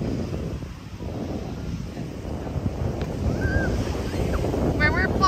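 Ocean surf rolling onto the beach at Waikiki, Hawaii, a steady broadband wash with wind buffeting the microphone, swelling slightly louder toward the end; faint voices briefly audible in the background.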